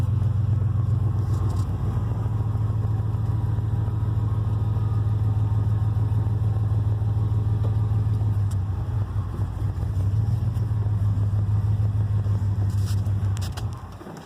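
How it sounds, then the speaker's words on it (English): A hitch crane truck engine drones steadily and loud while rolling downhill, dipping briefly midway before resuming, then cutting out as it stalls at the end. "I stalled it out"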